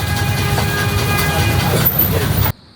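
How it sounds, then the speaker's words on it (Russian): An old tram rolls through the streets of Rome, a loud steady rumble with rail squeal and clatter lasting over two seconds before cutting off abruptly. "А вон еще старый трамвай."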